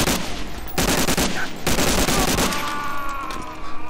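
MG42 machine gun fire in Medal of Honor: Allied Assault comes as loud, dense bursts of rapid shots, broken by short gaps, with no talk over it.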